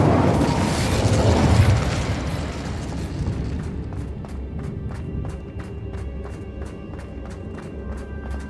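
A blazing Incendio fire spell in Hogwarts Legacy erupts in a loud whooshing burst for a couple of seconds, then fades into quieter rhythmic clicks and footsteps.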